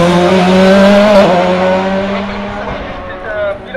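At the Bagnols-Sabran hill climb, a race car said to have once belonged to Michael Schumacher screams past close by. Its high engine note swells, then drops in pitch as it moves away, with a brief squeal of tyres.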